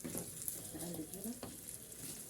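Eggs and onion frying in a pan while being stirred, a faint soft sizzle with light scraping and clinks over a couple of seconds, a voice murmuring faintly underneath.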